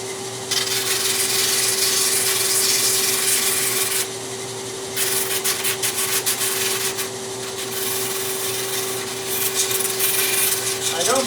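A large power sander shapes small wooden intarsia pieces, giving a steady loud whirring rasp with a constant motor hum, briefly dropping out near the middle and returning in irregular sanding strokes.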